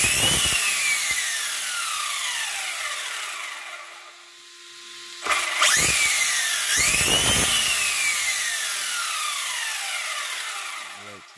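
Whining spin of a brushless motor in an RC nitro-style car with wheels revving freely on a 2S battery: high sweeping pitches rise and fall, cut out briefly, then surge back in several close, loud bursts.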